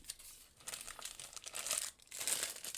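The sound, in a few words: knife pouch in plastic bag being unwrapped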